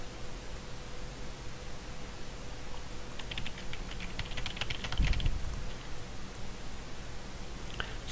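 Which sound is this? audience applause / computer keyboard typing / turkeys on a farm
computer keyboard typing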